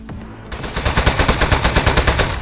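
Rapid automatic gunfire from shooting a desk in the video game Aperture Desk Job, a fast rhythmic burst of loud shots following a brief quiet start.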